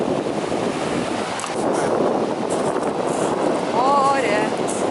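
Sea waves and strong wind by Brighton pier on the English coast, a broad continuous roar of surf with wind buffeting the microphone and a brief whistling tone near the end.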